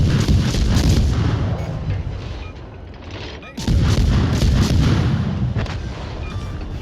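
Warship guns fire in World of Warships Legends, heavy booming salvos that rumble and roll, with a brief lull before another thunderous barrage.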